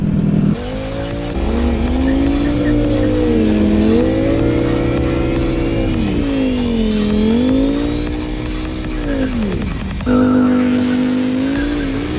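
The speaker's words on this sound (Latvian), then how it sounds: "Spolēšana notiek uz pilnu klapi." A motorcycle's rear wheel spins at full throttle, its engine screaming at high revs with rising and falling pitch over a long stretch. There is a sharp, brief drop near the end before the engine roars on.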